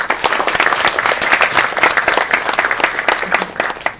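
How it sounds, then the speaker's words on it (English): An audience at a public seminar applauds, with dense, loud, steady clapping from many hands that fills the whole stretch without a break. "So please give big applause to all the speakers"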